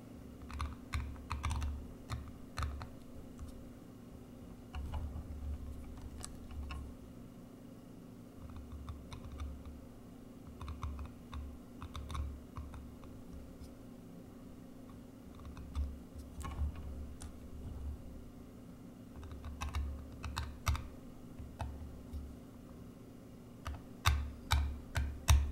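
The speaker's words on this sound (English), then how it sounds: "I cut along the stroke first, then I scoop out the background." A carving knife cuts and scoops a stone seal with sharp little scrapes and clicks, coming in irregular bursts over a low steady hum, close and fairly quiet, with nobody speaking.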